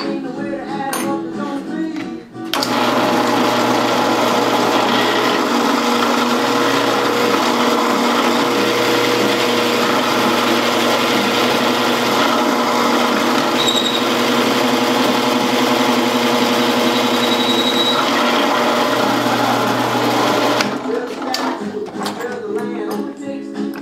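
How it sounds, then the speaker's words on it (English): A drill boring a 15/16 mortise into a briar pipe bowl, a loud continuous motor whine running steadily for about eighteen seconds before cutting off, with faint workshop sounds at either end. "I'm coming in with my 15/16 to drill my mortise for the tenon to go in"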